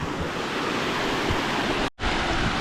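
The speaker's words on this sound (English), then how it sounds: "Got some water flowing now" Water rushes along a freshly cleared ditch on rural property, a dense continuous wash with a brief dropout near the end.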